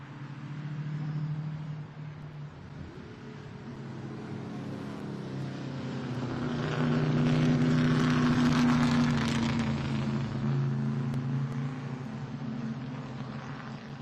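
Corvette and Porsche Cayman race cars lapping at Lime Rock during an SVRA vintage race, a sustained engine roar that swells to a loud pass in the middle and fades to a steady distant drone.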